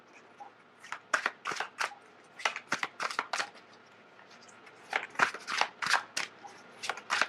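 Tarot cards being shuffled in quiet, close bursts of crisp riffling and slapping strokes that come in uneven clusters with short pauses between them, without any speech.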